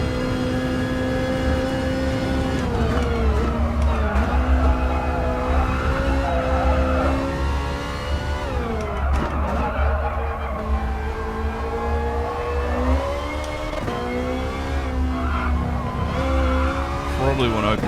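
A Group 4 race car in a sim racing video game, with a whining engine rising and falling through gears and brief tire squeal. The engine runs continuously under someone commentating.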